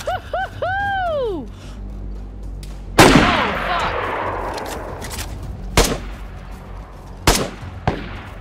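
Sharp gunshots ring out in the survival video game DayZ, one big close blast followed by several separated cracks with echoing tails, after a short rising whistle-like tone at the start.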